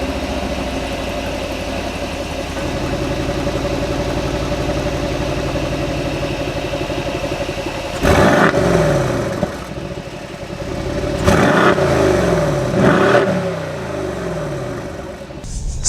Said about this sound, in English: I'm going to do a cold start here. We'll rev the engine a little bit so you can get a nice feel for how this engine sounds